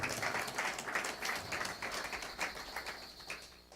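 A church congregation claps and cheers in praise, a dense, continuous wash of applause with bursts of louder clapping throughout, filling the room without pause.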